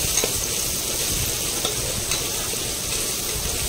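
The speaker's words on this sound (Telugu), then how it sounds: "ఇప్పుడు దీన్ని కూడా యాడ్ చేసి ఫ్రై చేసుకోవాలి" A paste of ginger, garlic, cumin and pepper sizzles and fries in a pan, a steady close hiss with faint stirring scrapes and no talking.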